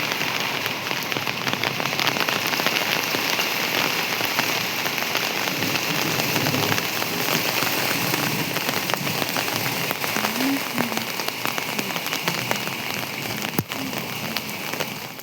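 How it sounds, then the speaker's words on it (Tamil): Heavy rain pours steadily, a dense hiss of drops pattering on surfaces that stays loud and unbroken the whole time. "மறுபடியும் மழை வந்துருச்சு, மறுபடியும் மழை வந்துருச்சுங்க."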